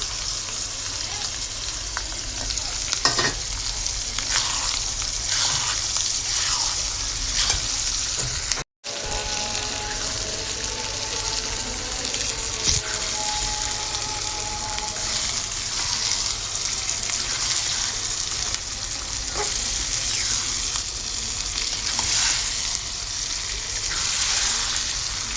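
A roast cooked in a pot with yogurt, roast spice mix and salt sizzles and fries in a steady, dense hiss that is close and continuous, broken only by one brief cut.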